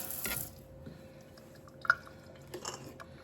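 Beets rinsed in water ahead of pickling give faint splashing and a few scattered drips, with one brief sharper splash near the middle, over a quiet background.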